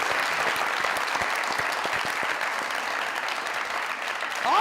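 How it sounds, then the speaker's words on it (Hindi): An audience breaks into sustained, even applause at a Pakistani comedy talk show, a dense wash of clapping that holds steady for several seconds. "तालियां।"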